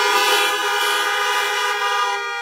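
Car horns honking together in a church parking lot, a loud sustained chorus of overlapping horn tones that holds steady for a couple of seconds and fades slightly at the end.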